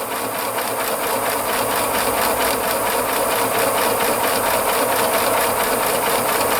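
A Pfaff Classic Style sewing machine stitching a large buttonhole with the buttonhole foot, a loud, close, continuous rapid mechanical whir and clatter that runs unbroken throughout.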